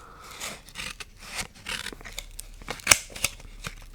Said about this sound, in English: I can take a little bit of this, and I can cut it with the scissor.